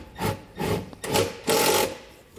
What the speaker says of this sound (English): Now we can just go ahead and tighten down the rest of our bolts.